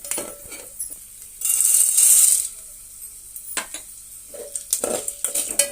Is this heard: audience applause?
no